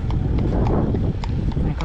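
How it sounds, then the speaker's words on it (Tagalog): Horse hooves clip-clop on a road during a cold early-morning ride, a quick, steady rhythm of sharp knocks close by over constant rumbling wind and road noise. "May kabayo ulit."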